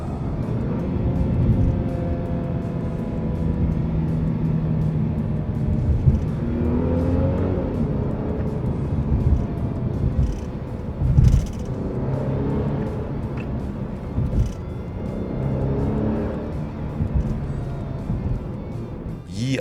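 A Mercedes E350 4Matic AMG Line engine revs hard at high RPM, a loud, sustained roar that rises and falls in pitch, with a few brief bumps and no speech over it.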